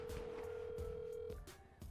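A phone ringing unanswered in the video game GTA gives a steady electronic tone that repeats faintly and cuts off, with voices murmuring underneath.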